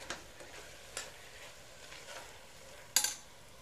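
Mint and coriander being stirred into a chicken biryani masala, with a faint steady sizzle under soft spoon scrapes and a sharp clink of the spoon against the pot near the end.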